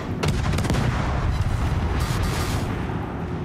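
Naval guns from warships in World of Warships fire HE and AP shells, producing a steady barrage of loud, overlapping booms and rumbling blasts that continue without a break.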